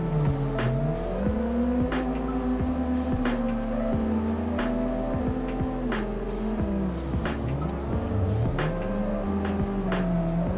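A race car drifts around a track in the Assetto Corsa sim, its engine droning loud and close with a wavering pitch as revs rise and fall, and tyres squeal now and then.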